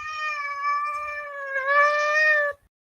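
An unhappy house cat being held lets out a long, loud, drawn-out complaining meow that swells near the end and then cuts off, close and clear.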